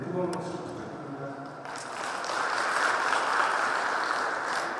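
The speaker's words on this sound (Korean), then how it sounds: "뜨거운 박수 부탁드립니다" Audience applause at a Korean hometown association president inauguration ceremony, a broad wash of clapping that swells after a brief lull and stays steady and fairly loud to the end.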